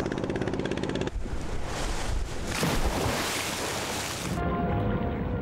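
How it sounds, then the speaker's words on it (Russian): Strong sea waves surge and crash around fishing schooners off the Chinese coast, a loud continuous wash of surf mixed with wind buffeting the microphone, no voices. "В этой акватории очень сильные волны."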